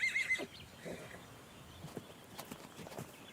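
Wild mountain horse whinnying once, faint and distant, followed by soft clip-clop hoof steps scattered over quiet outdoor ambience.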